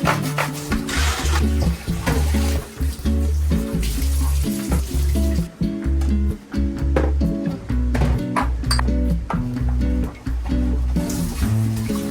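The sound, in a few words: washing the dish drainer with running water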